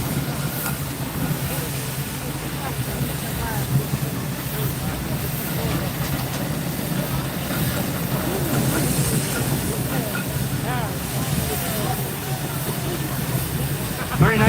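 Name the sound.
1909 Fowler steam traction engine passing in parade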